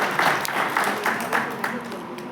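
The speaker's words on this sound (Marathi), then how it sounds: "एकदा सगळ्यांना आपल्यासाठी जोरदार टाळ्या वाजा" An audience at a poetry collection event claps, a brief scattered burst of applause rising and falling under a voice speaking over it.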